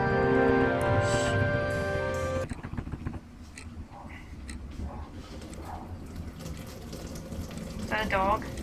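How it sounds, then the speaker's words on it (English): Running water from dishes being done in a video game flows steadily from a tap beneath someone talking over it, with other faint game noises. "That's water, okay. Somebody's doing dishes."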